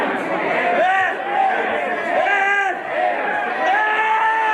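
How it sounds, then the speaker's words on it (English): A wrestling crowd at a CHIKARA match between Dasher Hatfield and Missile Assault Man chants loudly in a rhythmic, repeated sing-song pattern, the chant rising and dipping in waves that fill the whole stretch. "as you hear the crowd starting to chant "ant" at him"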